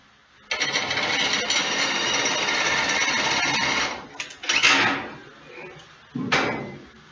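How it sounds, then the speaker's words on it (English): A power driver runs wafer screws into a wooden gable bracket: one long steady whirring run, then a few short bursts, heard up close. "using your wafer screws, attach through the pre-drilled holes in the bracket"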